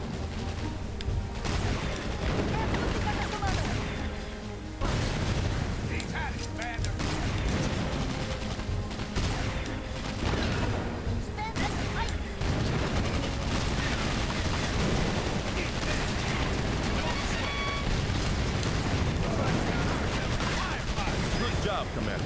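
Dense battlefield combat in the video game Battalion Wars, with continuous gunfire, machine-gun bursts and booming artillery blasts layered over a loud, constant din, with voices occasionally mixed in.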